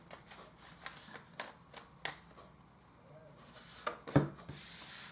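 A deck of interstellar oracle cards being shuffled by hand at close range, with soft papery riffles and rubbing strokes in quick irregular bursts, ending in a brief louder flutter.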